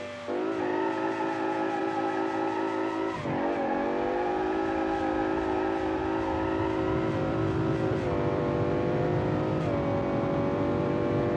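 Turbocharged car in a video game accelerating hard toward 400 km/h, a loud continuous engine whine climbing steadily in pitch, with a brief dip around a gear change before rising again, no talk over it.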